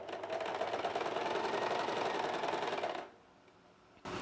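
An electric sewing machine fitted with a zipper foot stitches thread piping, giving a loud, steady whirring run for about three seconds before stopping abruptly, then briefly restarting, with no talking.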